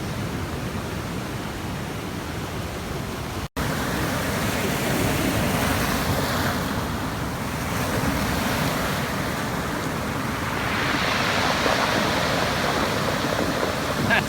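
Ocean surf breaks on a secluded Big Island beach in Hawaii, a steady, loud roar of crashing waves and wash with swelling surges and no voices.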